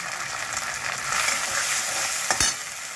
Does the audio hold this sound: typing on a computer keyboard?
no